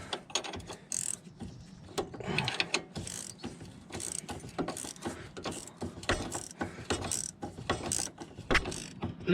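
Repeated ratcheting clicks from a ratchet tightening the front anti-roll bar drop links on a Volvo V70, fast bursts of dense metallic pawl clatter with brief pauses, close and fairly loud, no talking.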